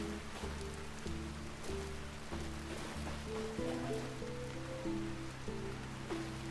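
Steady rain falls in the video game Vintage Story, a continuous hiss under low, repeating in-game music tones, with no talking.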